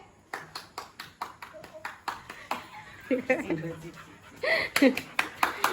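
Small child claps hands at home, a run of distinct, evenly spaced claps close by, with adult voices and a brief laughing, panting sound between them.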